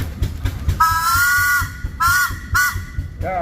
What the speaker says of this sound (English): give us a whistle